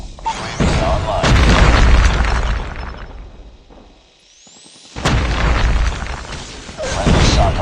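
Predator missile strikes in Call of Duty Mobile explode as loud, booming blasts with crackling debris, one big burst lasting a couple of seconds, then a brief lull before another heavy explosion and rumbling aftermath.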